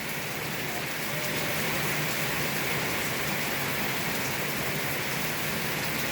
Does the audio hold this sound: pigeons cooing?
no